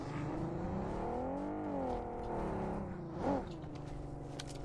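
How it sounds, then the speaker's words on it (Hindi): A vehicle engine in the battle-royale game PUBG Mobile drones steadily at moderate distance, its pitch rising and dipping as it revs, with a brief louder swell near the end. "गड्डी का शोर जाएगा।"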